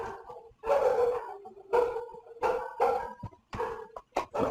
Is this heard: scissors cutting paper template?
no